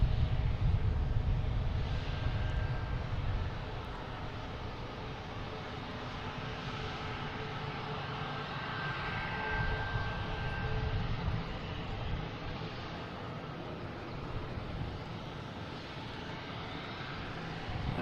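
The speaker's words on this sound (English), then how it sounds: "We got Delta coming in from Atlanta, landing on 27. Flight number 518 in A321." A Delta Airbus A321 arriving from Atlanta lands on runway 27 at Boston Logan International Airport, its engines a steady broad roar that is loudest at first, then settles into a continuous drone heard from a distance, with no talk.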